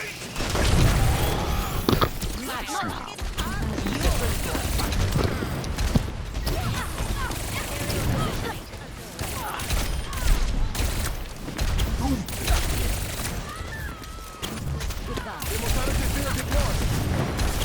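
Rapid gunfire from Tracer in the video game Overwatch, dense bursts of shots packed with explosions and ability effects that run through the whole stretch of heavy match noise, while someone talks over it.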